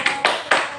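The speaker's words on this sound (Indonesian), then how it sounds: "Oke, tepuk semangat." A group of women claps in unison for a rhythmic spirit cheer during a savings and borrowing training session, three sharp, evenly spaced claps close by.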